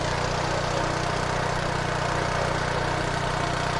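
A small engine runs at a steady idle, a constant low rumble and chug close by with no change in pace.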